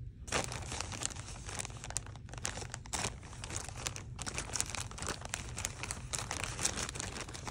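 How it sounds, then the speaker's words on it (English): Continuous crinkling and tearing of plastic packaging being unwrapped close up, with no talking. "I like the sound of the stuff unwrapping"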